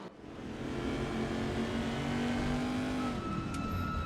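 A race car in the GTR2 sim racing game, a Cadillac versus Corvette event, driving past with a loud sustained engine drone that rises and holds, then shifts pitch near the end.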